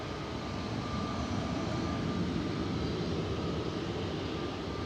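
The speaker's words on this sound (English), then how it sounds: "EasyJet next up for departure in front of us. This is flight 2275 to Enfida." An EasyJet airliner departs Manchester Airport on flight 2275 to Enfidha, giving a steady, moderately loud jet roar with a faint whine held through the whole stretch, heard from a distance with no one talking.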